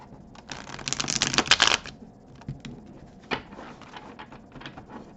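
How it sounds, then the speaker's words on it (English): A deck of tarot cards being shuffled, with a dense riffling burst near the start, then quieter scattered slides and taps of the cards, close and alone with no talk. "I'll give the cards another quick shuffle and then we'll get started."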